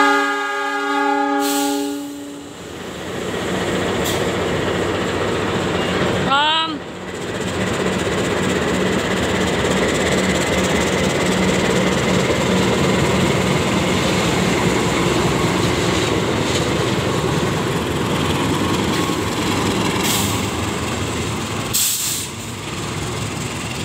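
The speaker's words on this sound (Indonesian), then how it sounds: "hati-hati satu selatan, kereta api melintas langsung" A train hauled by a CC 206 locomotive passes straight through a station without stopping: a horn blast opens, then a long, loud, steady roar of rolling wagons and rail clatter, with a squeal midway and hissing bursts near the end.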